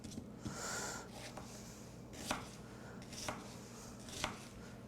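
Sharp knife chopping a Vidalia onion on a cutting board: a run of crisp, fairly close cuts, quick at first, then three separate louder chops spaced about a second apart, over faint background noise.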